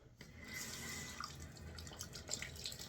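Hot water runs steadily from a tap as a shaving brush is tempered under it, a soft continuous splashing stream with faint drips, heard alone without talk.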